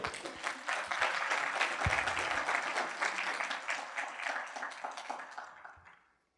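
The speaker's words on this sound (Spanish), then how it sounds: "Dele fuerte el aplauso a Cristo." A church congregation breaks into applause, a dense steady clapping from many hands that fills the room at full strength and then tapers off to silence near the end.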